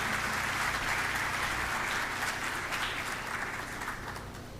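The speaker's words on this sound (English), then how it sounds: "That's a round of applause." An audience applauding at an awards celebration, a dense and steady wash of many hands clapping that holds for the whole stretch and eases slightly toward the end, fairly close, with no other voices.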